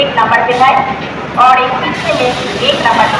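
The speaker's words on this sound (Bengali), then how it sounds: "কারণ এক্ষুনি ছাড়বে ট্রেন" Train ambience at an Indian railway station just before departure, a steady rumble and rattle under close, continuous talk from people on board.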